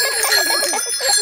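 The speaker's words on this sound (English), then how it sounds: "Can you all show me how good you are at ringing bells?" A bicycle bell rings in a quick run of bright, metallic trills, close and clear with no talking over it.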